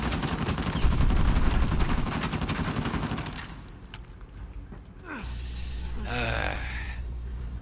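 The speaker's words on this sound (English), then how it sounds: "I have this heavy machine gun here." Heavy machine gun in Uncharted 4 hammering at a plastic barrier, a dense sustained burst for about three seconds that cuts off, followed by quieter in-game rumble and a brief voiced grunt.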